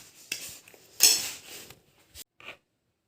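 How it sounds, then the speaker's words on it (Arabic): Spices for chicken being mixed in a bowl, a few short clinks and scrapes of a utensil against the dish with pauses between, close and fairly quiet. "هنا غنخلطوا العطريه ديالنا"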